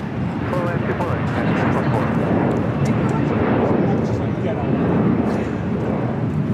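Aircraft noise at LAX as a plane lands on runway 24 right: a loud, steady broadband roar holding throughout, with radio voices over it.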